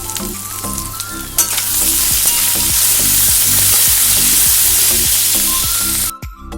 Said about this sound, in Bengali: সমস্ত মশলাকে ভালো করে আমি কষিয়ে নেব